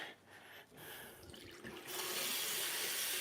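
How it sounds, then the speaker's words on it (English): Tap water running into a water bottle, a steady rushing flow that grows louder and fuller partway through, with some handling noise before it and no talking. "I am filling up my water bottle, honestly."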